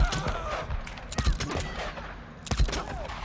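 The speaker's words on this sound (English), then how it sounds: "Yeah, that was some bad shooting there." Gunfire from Days Gone on PS5 during an ambush camp fight, several sharp cracking shots in two quick bursts, close and loud over faint ambient game sound.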